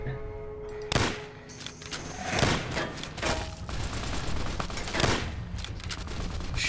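Sharp gunshots crack in a Fallout New Vegas firefight, several irregular loud bursts with heavy thuds and mechanical clatter between them, set over a busy, noisy background.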